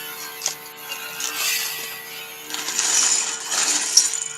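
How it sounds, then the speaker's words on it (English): A thin, high scratching and squealing that rises and falls in short strokes, like a cutter scoring glass, with a faint electrical hum underneath. "that is my wife cutting glass in the background"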